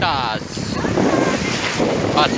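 Ocean waves break and wash on a beach in Esmeraldas, Ecuador, a loud roaring surf mixed with gusting wind noise on the microphone, and a brief voice near the start.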